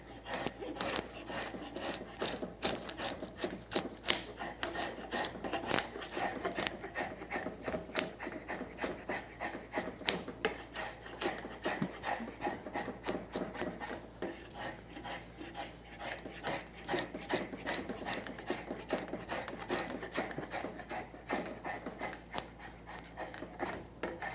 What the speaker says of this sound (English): I'm going to show you how fast you can taper a leg with a draw knife.